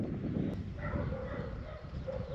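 Dogs bark outdoors at a passing glider, a few yapping barks at moderate distance against steady wind and ambient noise.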